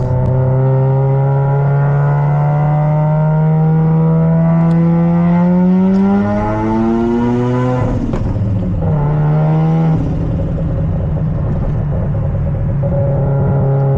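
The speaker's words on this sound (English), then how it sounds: "So many good turbo noises though." A Mazda FD RX7 turbo rotary engine revs up steadily and loudly, pitch climbing over several seconds, then drops off with turbo whooshes before settling back to a lower rising drone, close and continuous with no talking.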